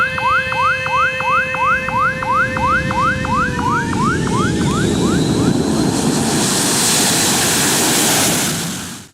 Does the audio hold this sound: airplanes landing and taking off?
yes